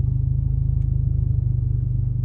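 A lowered VW Golf MK6 GTI creeps forward at low speed, its engine giving a steady, close, throbbing low rumble with no revving.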